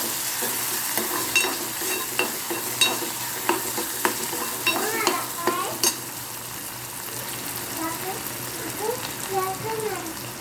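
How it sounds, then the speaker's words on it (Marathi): Tomatoes fry in a pan for a sprouted mung bean bhaji while a spoon scrapes and stirs them. Crackling sizzle runs under repeated sharp clinks from the stirring, and a voice is heard faintly. "टोमॅटो, टोमॅटो चांगलं शिजवून घ्यायचं आहे."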